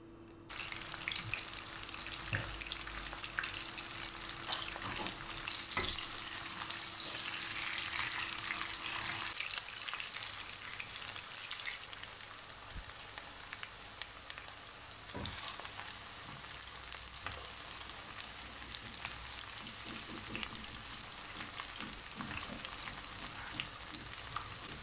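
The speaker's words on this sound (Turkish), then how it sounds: "Tencereme yağımı aldım. Böyle söğüş şeklinde doğradım. Soğanlarımı ilave ediyorum." Onions sizzle and fry in hot oil in a pot for pilaf, a steady dense crackle throughout with occasional stirring clicks and no talk.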